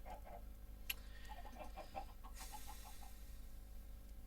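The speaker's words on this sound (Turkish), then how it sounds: "Oo burada tavuk cenneti." Chickens in Minecraft give a series of soft, rhythmic clucks, several short calls spread across the stretch over a steady low background hum.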